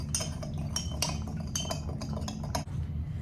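A metal spoon stirring salt into water in a glass, clinking rapidly and repeatedly against the sides in quick bursts, close and clear with no talking.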